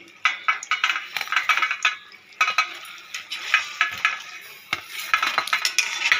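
Close, irregular stirring and scraping of a spoon in a pan of sweet potato sweets in jaggery syrup on a gas stove, with clinks and soft sizzle in uneven bursts and no talking.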